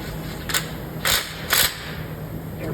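A ratchet wrench with a 19 mm socket turns on the timing gear of a 1976 Pontiac Grand LeMans 350, giving three sharp, close clicking bursts at roughly half-second intervals over a steady background hum.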